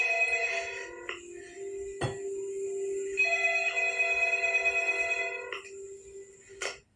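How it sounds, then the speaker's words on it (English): Several cell phones ring in a film montage, electronic trilling tones layered and cut together in bursts with sharp edits between rings, fairly clear and isolated. "I wanted to show you the cell phone ringing montage with the cell phones."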